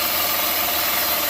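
Car engine idling steady at 800 RPM during an air/fuel mixture check for vacuum leaks, a close, continuous hum with faint mechanical ticking and no talk over it.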